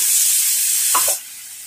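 Ridge gourd with green chillies hits a hot pan in a loud, bright sizzle that carries on steadily, then a brief stirring scrape sounds just before the hiss suddenly drops away.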